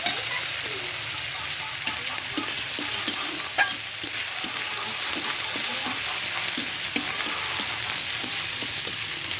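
Onion and garlic fry steadily in a pan, giving a continuous close sizzle with scattered crackles and pops and occasional stirring scrapes, no voices.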